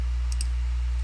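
Two quick, faint mouse clicks land close together over a steady low electrical hum as points are placed with a path tool.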